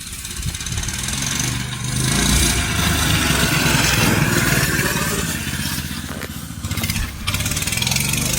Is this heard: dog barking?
no